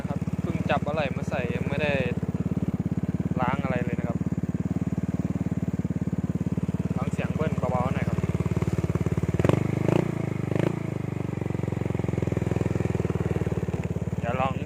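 A customized Yamaha Mio motorcycle built with second-hand parts runs with a steady, even engine drone, while someone talks over it intermittently.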